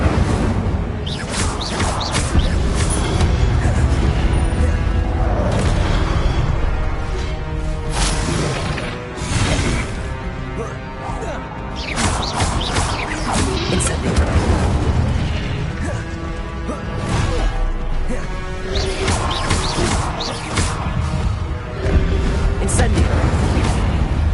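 Fiery spell blasts from a video game on PS4 burst out again and again in booming, crackling whooshes, dense and loud throughout, with a voice calling out over the effects.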